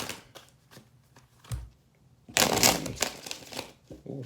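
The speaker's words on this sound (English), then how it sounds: "Ooh, that was such a nice shuffle." A tarot card deck being shuffled by hand: soft, sparse card taps at first, then a loud, dense riffling flurry of cards that runs to the end, close up, with no talking.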